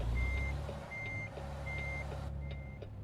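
A truck in American Truck Simulator reverses with steady, evenly spaced backup beeps, four clear tones over a low engine rumble.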